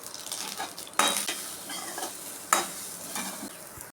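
Drumstick leaves with grated coconut sautéing in a pan, a steady close sizzle broken by a couple of sharp scraping strokes of a stirring spoon against the metal.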